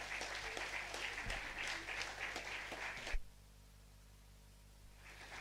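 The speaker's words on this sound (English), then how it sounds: "they deserve a huge applaud for appreciation" Applause from a conference audience honoring volunteers and history department staff fills the first three seconds with dense, moderately distant clapping, then cuts off abruptly into quiet room tone, with a faint return of clapping at the end.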